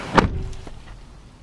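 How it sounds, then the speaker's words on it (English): A single solid thunk of a 2016 Chevrolet Suburban LT door shutting nearby, followed by a brief rattle and quiet afterward. "We'll shut the door."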